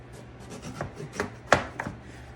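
A knife cuts through a pumpkin in a few distinct crunchy strokes, close and fairly loud, the sharpest bite coming midway with smaller scrapes around it.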